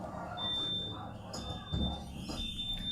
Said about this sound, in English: My alarm goes off.